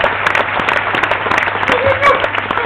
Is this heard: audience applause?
yes